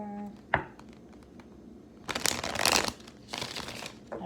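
Tarot cards shuffled by hand in close riffling bursts, with a sharp tap early on, then two longer stretches of dense papery shuffling separated by a brief pause.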